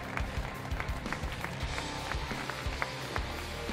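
Crowd applauding fighters at an MMA undercard weigh-in: scattered, uneven clapping under a noisy room hum, moderately loud and continuous across the moment, with no clear speech.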